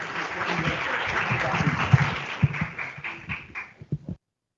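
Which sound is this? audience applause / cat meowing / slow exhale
audience applause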